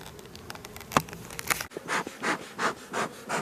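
Honeybees buzz around an opened hive during an inspection, close and steady, with wooden knocks and scrapes early on and then pulsing surges of buzzing.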